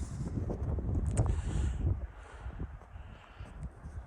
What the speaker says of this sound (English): the problem is the wind is coming from this way, and I kind of want the wind blocked